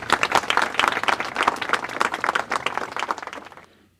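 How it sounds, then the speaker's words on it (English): A show host claps alone, a quick steady run of sharp hand claps lasting a few seconds before stopping abruptly. "I'll even give you a clap."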